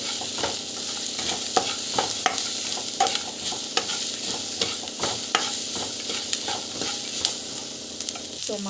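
Onions with asafoetida and salt sauté in a pan, a loud, close, continuous sizzle broken by regular scraping and tapping strokes of a spoon against the pan, with no voices.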